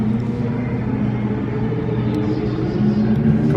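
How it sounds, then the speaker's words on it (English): A group of motorcycles rumbles past on a road at moderate distance, a steady low engine roar that swells slightly toward the end. "Oh, here they come. Oh, it's motorcycles."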